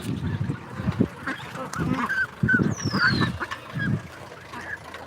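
Several farm ducks quack and honk in quick, overlapping bursts close by, with a thin whistling call cutting through briefly.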